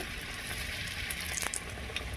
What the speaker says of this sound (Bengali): লাল লাল করে পরোটাগুলোকে ভেজে নেবে